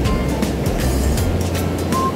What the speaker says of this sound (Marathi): मस्त एक समुद्र बघा किती छान आहे.